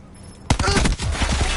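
Rapid bursts of tactical rifle gunfire in a console shooter game, loud and close, starting abruptly after a quiet moment and rattling on for over a second, with a voice briefly mixed in.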